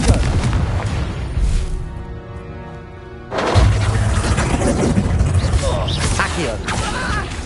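A Confringo blasting spell explodes in Hogwarts Legacy, a loud booming crash with mechanical rumble that drops briefly and then surges back for a sustained blast.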